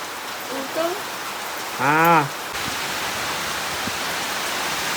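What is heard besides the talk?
heavy rain and wind in a village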